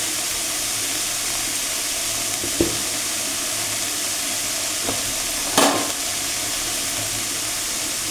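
Mulo shak greens frying in a pan give a steady loud sizzle and hiss throughout, broken by a few brief scrapes and knocks of a spoon as they are stirred and mixed.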